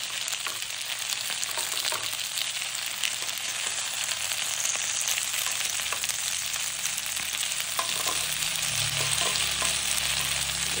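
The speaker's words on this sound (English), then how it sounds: "the potatoes have been cooking for a few minutes now. We're going to give them a toss." Potatoes fry in an oiled pan with a steady, dense sizzle, broken by occasional scraping and clattering as they are tossed and turned; no one speaks.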